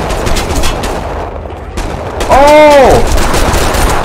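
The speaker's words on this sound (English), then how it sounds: "Where am I getting shot from?" Gunfire in the 25 to Life video game, a dense burst of shots building over the last seconds amid busy game noise, with a man exclaiming over it.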